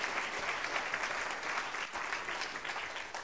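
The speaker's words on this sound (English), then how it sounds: "Can you give him a big clap offering this morning?" Sustained applause from a church congregation, steady and moderately loud, with dense overlapping claps throughout.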